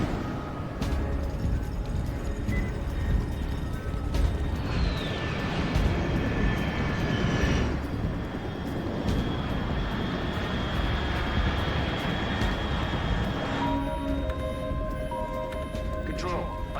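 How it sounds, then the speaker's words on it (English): Aircraft roaring overhead in Metal Gear Solid Delta: Snake Eater, a loud, sustained engine rumble with whining tones running throughout, while voices talk over it. "Unidentified aircraft detected."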